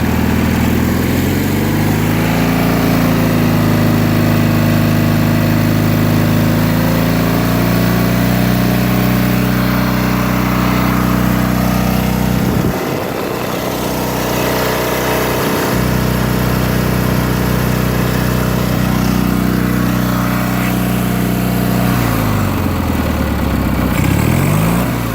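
The engine of a Cub Cadet 1811 lawn tractor fitted with a new carburetor runs steadily close by, a loud droning hum that dips briefly in pitch twice mid-way, then revs and settles again.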